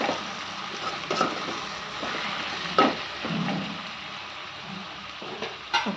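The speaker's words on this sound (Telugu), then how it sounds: "ఒకసారి మొత్తం కలుపుకోవాలి." Stirring a dry fish curry with drumstick and cucumber in a pan: a soft, steady sizzle with occasional scraping and clacking strokes of the spoon, fairly quiet and close.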